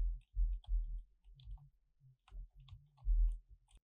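Computer keyboard keys pressed in short bursts of quick, close clicks and taps, with brief pauses between groups of strokes, a typing pattern of text followed by Shift and Enter.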